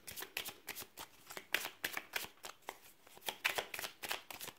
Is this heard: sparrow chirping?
no